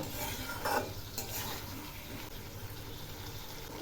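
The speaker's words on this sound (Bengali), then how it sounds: "এবার এই মশলাগুলো দিয়েও ভালো করে কষিয়ে নেব।" Ginger and radhuni spice paste sautéing in oil for Bengali vegetarian shukto, a quiet steady sizzle with a soft scrape of stirring near the start.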